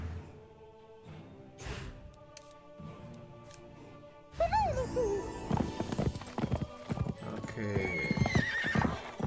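Horse hooves clip-clop and a horse neighs in the video game South Park: The Stick of Truth; quiet rhythmic steps open, then a loud whinny and busier galloping clatter follow, with a brief spoken word.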